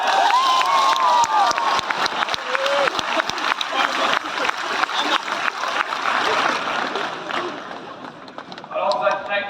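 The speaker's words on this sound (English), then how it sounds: "Round of applause, please." A crowd gathered to celebrate Clare's 2023 Munster minor champions claps and cheers, with shouts, chatter and children's voices mixed into the uneven applause and a few higher whoops rising near the end.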